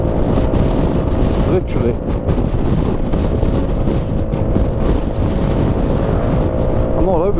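Heavy wind buffets a microphone on a moving scooter, a loud constant roar with an engine drone beneath it, and someone speaks briefly over the noise.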